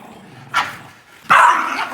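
A dog named Charlie barks twice, a short bark followed by a louder, longer one, close by and clear with no talking over it.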